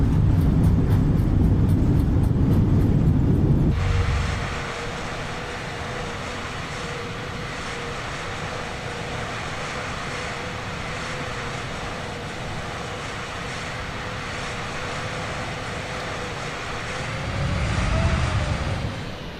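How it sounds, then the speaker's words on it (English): An airliner in Microsoft Flight Simulator 2020 roars loudly through its landing roll, a sudden broadband engine rush after a brief louder opening, holding steady as a sustained whine with a late surge near the end. "50, 40, 30, 20, 10, 5. Reverse thrust."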